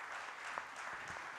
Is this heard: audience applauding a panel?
yes